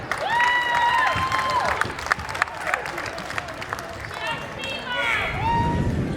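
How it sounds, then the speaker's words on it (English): In a high school girls' basketball gym, the crowd applauds the seniors during a game break, a diffuse wash of clapping and murmur beneath squeaking sneakers and scattered chatter. "one more round of applause for all of our seniors today"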